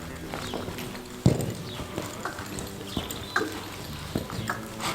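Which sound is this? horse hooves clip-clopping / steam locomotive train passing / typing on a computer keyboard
horse hooves clip-clopping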